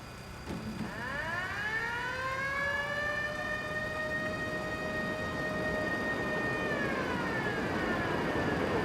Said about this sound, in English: That's the alarms. Reinforcements will be flying in.